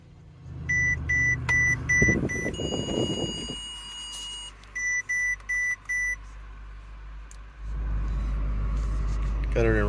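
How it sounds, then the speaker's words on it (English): Parktronic parking sensors on a 2009 Mercedes-Benz CL63 AMG (W216) sound a series of short, evenly spaced electronic beeps in two bursts while reversing, over a low engine rumble, with someone talking between them. "The car has Parktronic on it, so maybe let's kind of give that a demo."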